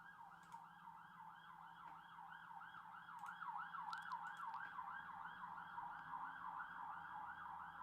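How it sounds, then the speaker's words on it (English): A loud emergency siren wails outside in a steady rising-and-falling cycle that repeats throughout and grows slightly stronger toward the middle, with faint road noise beneath it. "It's a loud siren"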